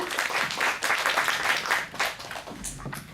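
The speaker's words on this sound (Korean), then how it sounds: "다시 한번 박수 부탁드립니다." An audience at a Korean talk event gives a steady wash of applause, many hands clapping together at a moderate distance, continuous and fairly even for about three seconds.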